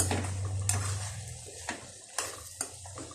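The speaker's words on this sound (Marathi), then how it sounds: "एकदा ढवळून घेऊ" A spoon stirs a cooked potato mixture in a pan, scraping softly with a faint sizzle underneath and a few sharp clinks of metal against the pan at irregular intervals. No one speaks.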